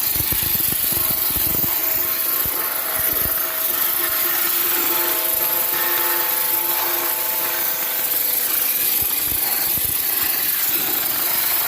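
A steam car wash machine running at 12 to 22 bar pressure, giving a loud continuous hiss and whine with a steady mechanical drone and occasional low knocks, close by with no talk.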